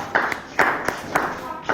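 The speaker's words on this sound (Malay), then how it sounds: "bagi tepukan gemuruh untuk awak" Pupils in a classroom give a few quick bursts of clapping for a classmate, four or five short spaced claps standing out clearly near the listener.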